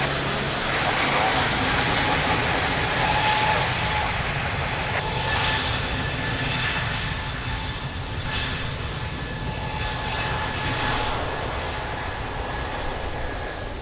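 An aircraft takes off from runway 02 at Lisbon Airport, a loud continuous engine roar that stays strong and slowly fades toward the end, with faint radio chatter in the background.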